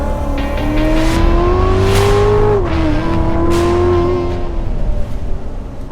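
A 2016 Chevrolet Corvette Z06 C7 engine runs loud and close, its steady tone climbing in pitch, dipping briefly midway, then holding strong again with no talking.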